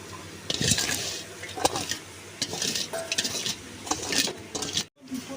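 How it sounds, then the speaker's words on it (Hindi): Chopped apple tipped into a cooking pan of ridge gourd (turai) sabzi and stirred, with utensil scrapes, clinks of metal and wet shuffling that come in bursts over a few seconds, close and moderately loud. "अब सेब डाल रहे हैं इसमें।"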